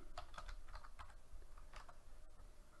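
Quick, light keystrokes on a computer keyboard as a sprite name is typed, a short burst of close, soft clicks in an uneven rhythm.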